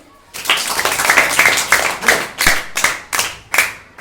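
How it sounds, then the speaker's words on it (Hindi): A small audience claps hands in an irregular burst, with sharp individual claps standing out over a steady patter, fairly close and loud, with no talk over it. "आप लोग बजाइए ताली।"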